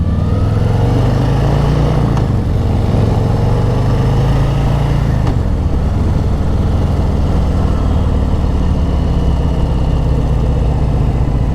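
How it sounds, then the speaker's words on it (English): A 2023 Harley-Davidson motorcycle engine revs high while ridden, a loud, continuous, close rumble whose pitch rises and dips through throttle changes over several seconds. "I'm high revving it a little bit on purpose."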